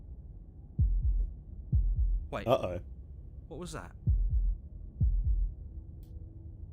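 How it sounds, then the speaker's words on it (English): Slow, deep heartbeat thuds in the Slay the Princess video game, arriving in paired beats at a steady pulse, loud and low; a voice speaks briefly in between. "That was the sound of a heartbeat"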